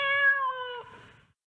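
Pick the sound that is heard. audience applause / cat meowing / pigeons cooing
cat meowing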